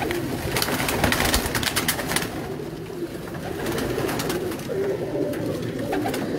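Pigeons coo on a rooftop in a soft, continuous low murmur from several birds nearby, with some busier rustling noise early on and no speech.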